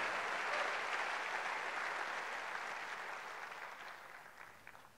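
A church congregation applauds during a Sunday Spanish-language sermon, a soft, steady wash of clapping that fades gradually toward the end.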